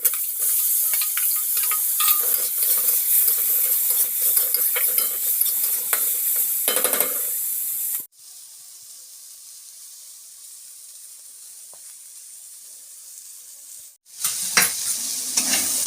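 Mixed vegetables with peas and chopped tomato sizzle loudly in a pan as they are stirred, the frying hiss dropping to a quieter steady crackle midway before flaring up again at the end.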